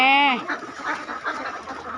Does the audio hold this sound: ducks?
yes